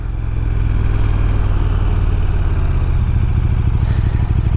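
A 2015 KTM 1290 Super Duke R motorcycle being ridden, its big engine giving a loud, steady, throbbing drone with a rough low-end pulse that holds constant throughout, close up and alone.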